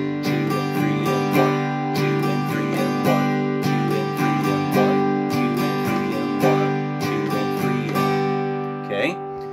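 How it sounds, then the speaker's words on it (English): An acoustic guitar strums a steady pattern with extra quick strums added after counts two and three, played up close with bright chords ringing evenly throughout. "And that strumming pattern would look and sound like this."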